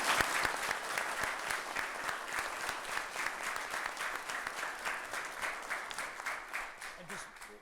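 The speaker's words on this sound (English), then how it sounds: "give them a little bit of applause" Applause fills a city council meeting chamber, a continuous, even patter of many hands clapping at moderate volume that gradually softens toward the end.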